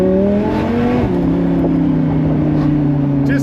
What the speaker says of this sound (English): Just a lovely smooth V10 sound.